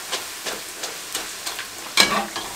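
Bhatura dough fries in smoking-hot oil, giving a steady crackling sizzle with soft regular splashes roughly every third of a second and a brighter, louder burst near the end as the dough is pressed.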